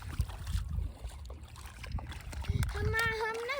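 Water splashes and sloshes nearby in irregular bursts as a child splashes at a family picnic while others talk over it, with a high voice rising near the end.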